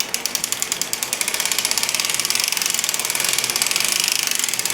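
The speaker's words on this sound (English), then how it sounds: "I always crank a few rows just to make sure that that buckle's on there good" Knitting rows being cranked on an Erlbacher Gearhart knitting machine with ribbing set up, a steady rapid ratcheting clatter of needles and gears, close and continuous, growing slightly louder after the first second.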